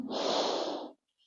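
A single long breath drawn in through the nose during a yoga class, a close, airy inhale lasting nearly a second before cutting to silence.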